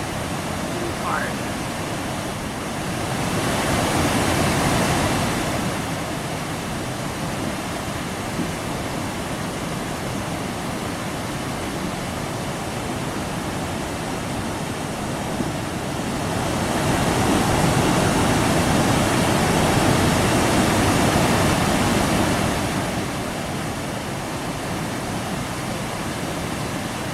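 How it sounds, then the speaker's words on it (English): A mountain stream in Glacier National Park rushes in a steady, broadband roar after rain. The water noise swells louder in two stretches, then eases back, with no other sounds over it. "here we are, one of the streams in"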